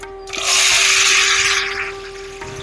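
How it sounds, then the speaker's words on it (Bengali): Chopped bottle gourd hits hot oil tempered with dried red chillies, bay leaves and black mustard seeds, bursting into a loud, broad sizzle that swells quickly, holds steady for about two seconds, then eases off. "এবার লাউটা ঢেলে দেব কুচানো লাউটা দিচ্ছি"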